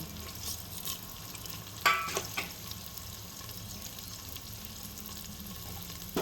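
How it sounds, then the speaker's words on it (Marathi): Whole spices such as cloves and peppercorns roast in a pan for biryani, a soft, steady sizzle with a few brief clatters of stirring near the middle, quiet and close with no talking. "आणि आता हे आपण आधी याला भाजून घेऊ."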